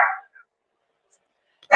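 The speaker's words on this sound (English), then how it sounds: "y'all hear my dog barking?" A dog barks in two short, loud bursts close by, with a long stretch of near silence between them and no other sound.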